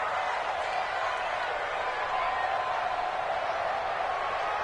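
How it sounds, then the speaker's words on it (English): In a PS4 football game, a stadium crowd cheers and claps ahead of a big third down, forming a constant, full roar of massed voices and applause that holds at an even level. "The crowd getting into it as we come up on a big 3rd down"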